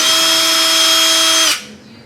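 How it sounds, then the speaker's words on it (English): A power drill whirs loudly at a constant high pitch for about a second and a half while driving a long screw into a light switch, then cuts off and spins down. "Glad I got the drill instead."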